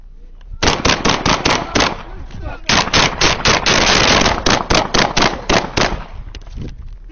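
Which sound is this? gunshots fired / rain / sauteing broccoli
gunshots fired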